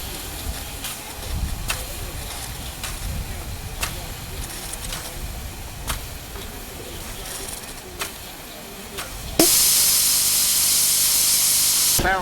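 A steam locomotive gives off a steady hiss over a rumbling background with faint periodic clanks, then a sudden, louder and brighter burst of escaping steam takes over for the last few seconds.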